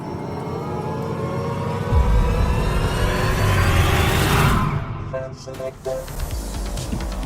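The engine of the Stradale rally car in a racing video game revs with a high, whining, blender-like tone, loud and sustained before easing off, with a few short clicks near the end.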